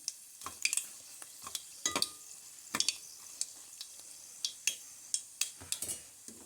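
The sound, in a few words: dried red chillies frying in oil with mustard seeds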